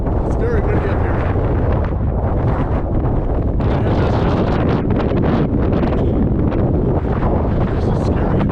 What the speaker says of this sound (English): It's very windy up here.